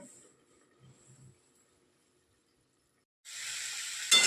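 Chicken meat for a spicy chicken chatpata sizzles loudly in a hot pan as it is stirred, a steady bright hiss bursting in after a quiet stretch and swelling briefly near the end, with no talking.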